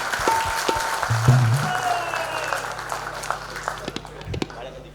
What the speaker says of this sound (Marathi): एकदा जोरदार टाळ्या त्यांच्याकरता.